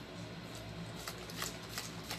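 Makeup setting spray mists onto a face in a few short, breathy hissing bursts, close and fairly soft, with no talking.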